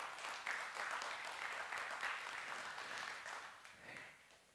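Church congregation claps during a sermon, a soft, distant patter of many hands holding steady for several seconds before thinning out at the end.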